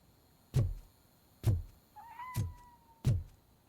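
A cat meows a single time in RoboCop: Rogue City, a clear rising-and-falling call heard alone, set between four loud, evenly spaced thumps.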